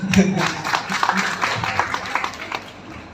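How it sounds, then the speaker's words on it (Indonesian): An audience claps together in a seminar setting, a dense, steady patter of many hands lasting a few seconds, close and fairly loud, with voices mixed in underneath. "Tepuk tangan"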